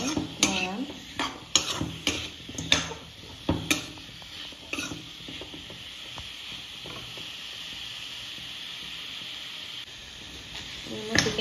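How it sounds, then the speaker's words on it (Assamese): Broiler chicken frying without oil in a pan, stirred with a utensil: repeated sharp scrapes and clinks against the pan over a steady soft sizzle, then the sizzle continues alone. "এনেকৈ ভালকৈ অকণমান লৰাম"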